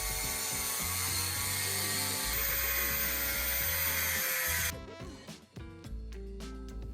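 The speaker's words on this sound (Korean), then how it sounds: "아시는 분이 전동 그라인더를 들고 계셔가지고 좀 잘라달라고 부탁을 했습니다" An electric grinder cuts through a metal espresso machine portafilter to make it bottomless, a loud sustained whine with a harsh grinding rasp that cuts off near the end, leaving rattling mechanical clatter.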